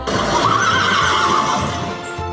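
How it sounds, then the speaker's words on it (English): A horse lets out a single loud, drawn-out neigh, close and shrill, trailing off near the end with a faint low background beneath. "Horse."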